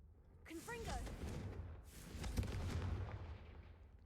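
A Confringo fire spell cast in a video game bursts as a loud boom with a rushing whoosh, then a second blast swells later, over a low rumbling game backdrop.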